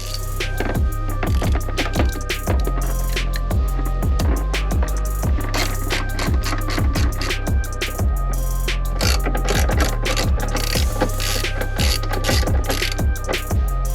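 A hand ratchet loosens 8mm airbox bolts on a vehicle during a snorkel install, giving quick runs of sharp, rhythmic clicking strokes over a constant low hum.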